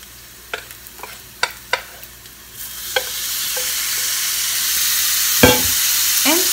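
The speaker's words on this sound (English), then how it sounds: "Then add gizzards in the pan." Chicken gizzards stir-frying in a pan for sunazuri stir fry, starting with a few sharp clacks of utensils, then a loud, steady sizzle that swells and holds, with a later scrape of stirring.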